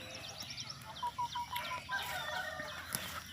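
Morning farmyard at the edge of a rice field: chickens cluck in short repeated calls while a rooster crows partway through, fairly faint, with a sharp click at the end.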